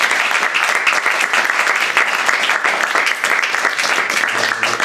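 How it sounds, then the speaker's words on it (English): Audience applauding poets at the close of a hybrid poetry reading at the Grolier, a steady dense wash of clapping that holds at full strength throughout. "let's give the poets one more round of applause."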